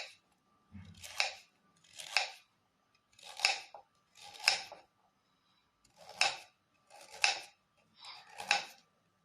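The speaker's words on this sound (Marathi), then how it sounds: "अशा प्रकारे आपण सगळे गाजर कापून घेऊ" Carrots sliced into pieces on a board for a carrot sabji, giving seven crisp, evenly spaced chopping cuts, close and clear with quiet gaps between them.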